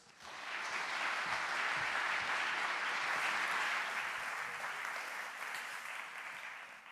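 An audience claps warmly to welcome speaker Ben Schulz at a public science talk on wild yeasts and beer in Brisbane. The dense, steady applause swells quickly, holds for several seconds, then slowly thins toward the end.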